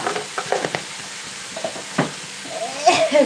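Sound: spices being stirred in a sizzling pan

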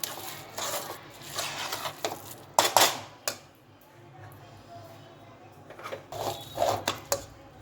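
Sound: mixing spices and oil for dates pickle

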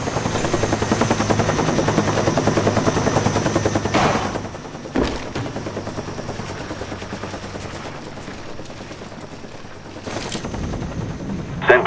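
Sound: spy plane flying in video game Call of Duty Black Ops

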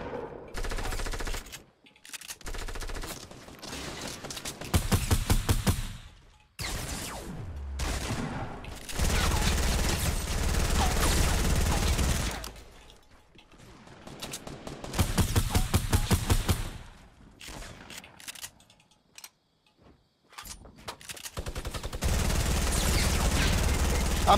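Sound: gunfire from the video game Fortnite

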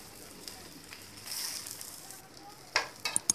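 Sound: onion uttapam frying on a pan

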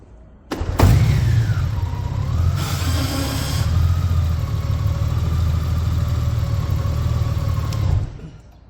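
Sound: Honda Gold Wing DCT motorcycle engine idling

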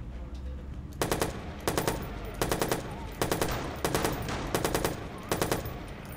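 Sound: gunfire in Watch Dogs video game

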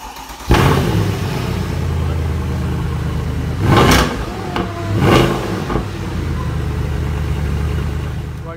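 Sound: car engine starting and revving

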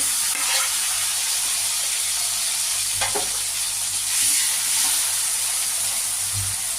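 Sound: onions and chopped tomato frying in a pan

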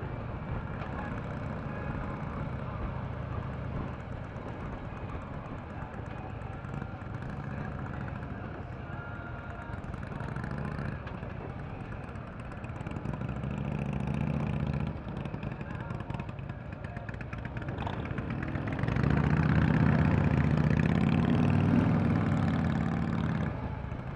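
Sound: 2014 Harley-Davidson Ultra Limited 103 ci engine idling

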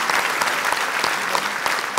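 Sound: applause for the winner

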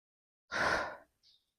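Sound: exhaling during interval workout

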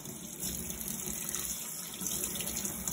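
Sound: water running from tap for rinsing

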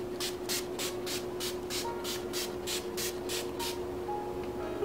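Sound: makeup setting spray misting

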